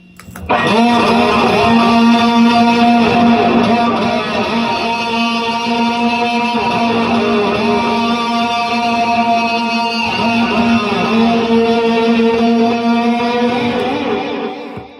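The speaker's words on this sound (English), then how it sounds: "The distortion sounds like this." A sustained distorted electric guitar playing a tone rings out loud and thick, holding droning chords with shifting overtones for several seconds before cutting off.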